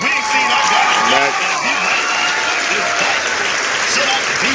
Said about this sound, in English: we got to get this man here a round of applause